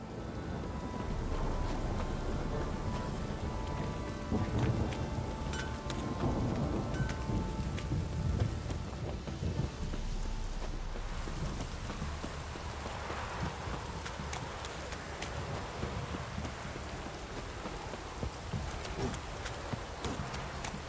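Heavy rain pours steadily in The Witcher 3 with rolling thunder rumbling through it, a dense continuous downpour with no voices.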